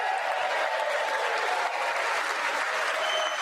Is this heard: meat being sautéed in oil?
no